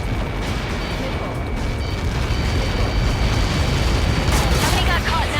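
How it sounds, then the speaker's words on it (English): Sustained rumbling blast in the Ace Combat 7 video game, a Helios projectile impact near the space elevator, roaring continuously and loudly for several seconds with a heavy low-end rumble. "How many got caught in that explosion?"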